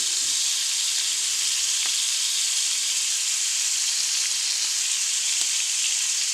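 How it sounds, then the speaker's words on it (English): Fresh herbs and butter sizzling in a hot pan while cooking Italian spaghetti: a steady, loud, hissing sizzle that holds unbroken throughout, with faint occasional ticks and no voices. "Fresh herbs and butter. Hit the pan. Sizzling."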